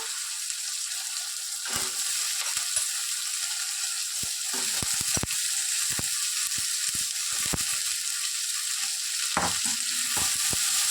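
Cluster beans dropped into softened onions frying in a kadai give a steady sizzle, broken by sharp clicks and scrapes of stirring, close and fairly quiet.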